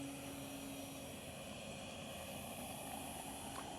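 An E-flite Night Radian 2.0 m electric RC glider drones steadily overhead, a constant whirring motor hum with a slight tonal whine, faint and distant with no voices.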